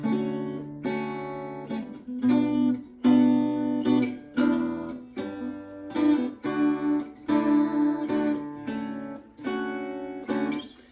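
Fingerpicked acoustic guitar played in a rolling pattern, notes rippling through each chord, close and steady with no voices.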